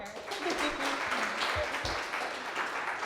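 An audience at a lunchtime talk applauds a speaker, a sustained, moderately loud patter of many hands clapping that holds evenly for the whole stretch, with some voices faintly mixed in.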